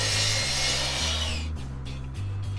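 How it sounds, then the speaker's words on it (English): A power saw cuts a wooden cornice board for a curtain cornice, a loud whining cut with a hum underneath, then the blade winds down with scraping and knocking of wood. "Now I will cut the cornice down to about 66 inches."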